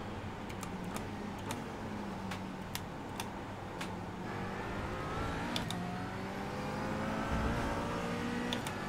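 Turbocharged race car engine from a car close behind in iRacing, running GT4 machinery. A continuous revving drone rises in pitch, with sharp ticking clicks layered on top.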